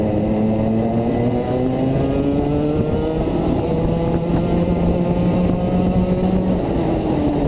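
DMAX racing karts howl through a heat race, several two-stroke engines layered at once with pitches gliding up and down as they accelerate and brake, loud and continuous throughout.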